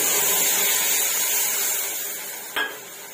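Tamarind water hitting hot oil tempered with five-spice, a loud, steady hiss of sizzling that fades slightly, with a brief clatter near the end.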